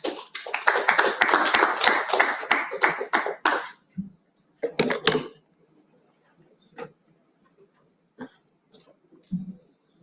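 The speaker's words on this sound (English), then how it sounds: "Please give a round of applause for her." A burst of audience applause, dense at first and tapering after a few seconds into scattered claps and small sounds.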